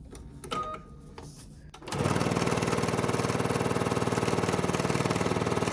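A sewing machine chain pieces a quilt block, stitching right off the fabric edge; after a quiet start with faint handling, a steady, rapid mechanical whir with fast rhythmic needle beats runs loud and close to the end.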